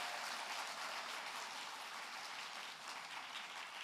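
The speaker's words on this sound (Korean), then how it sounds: "크게 박수로 축복하겠습니다" Applause from a church congregation, a steady broadband patter of many hands clapping with no gaps, fairly faint and even throughout.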